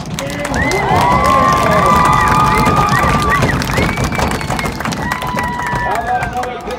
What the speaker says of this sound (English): I want another big round of applause for everybody you see on the track